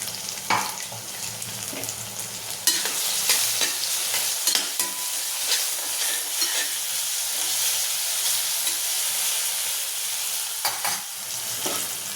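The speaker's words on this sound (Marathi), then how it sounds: "आपण आता हिरवी मिरची लसूण टाकायचं याच्यात वाटून केलेलं।" Ground green chili and garlic paste hits hot oil with browning onion in a pan, giving a steady loud sizzle and hiss with occasional stirring scrapes throughout, no voices.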